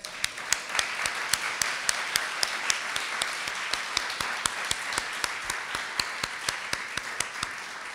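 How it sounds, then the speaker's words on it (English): An audience at a UCLA global health conference claps, with a steady, rhythmic beat of loud individual claps ringing out over a softer bed of applause throughout. "That calls for an applause."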